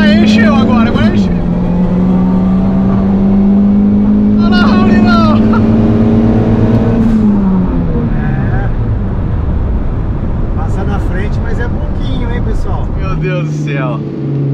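A turbocharged car engine revs hard and holds a high, sustained whine, then drops in pitch as the revs fall. It stays loud and close throughout, with a deep drone near the end.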